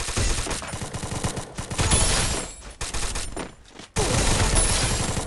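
Rapid gunfire from an old gun in Free Fire mobile ranked play, loud dense bursts of shots running nearly continuously with a brief gap before a final volley.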